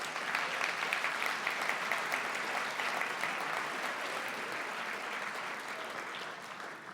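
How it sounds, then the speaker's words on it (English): Audience applause fills a Cape Breton hospice charity dance gala, a broad, even roar of many hands heard from some distance that holds steady and slowly eases toward the end. "Give yourselves a round of applause"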